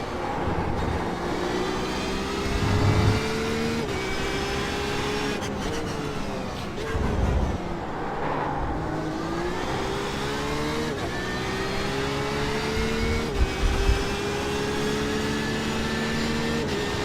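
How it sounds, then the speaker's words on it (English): A Porsche RSR GTE race car engine in iRacing at Le Mans drones steadily, its pitch sliding up and down through shifts and downshifts, with several brief harder revving surges and blips while braking into corners; no talking. "your engine revs sound no different than mine when I'm braking and going into a corner"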